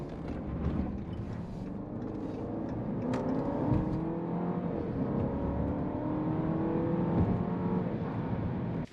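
A 2019 Jeep Cherokee Limited 4x4 with a 9-speed automatic accelerates toward highway speed, its engine note a steady, rising drone with road and wind rumble throughout, heard from inside the cabin with no talking.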